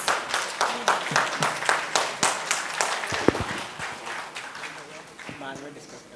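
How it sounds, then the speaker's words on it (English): An audience at a plenary session gives a round of applause, dense clapping that stays fairly even, then thins out and fades toward the end. "Can we have a round of applause, please?"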